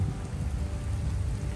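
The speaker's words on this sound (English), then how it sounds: "A little rainy day in Savannah," A steady rain shower falls in Savannah, a dense even hiss of drops pattering on surfaces, close and continuous for a brief moment with no voices.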